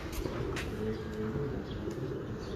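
A breeder pigeon cooing in a low, soft murmur, faint repeated coos over a steady background hum with a few brief higher chirps and clicks.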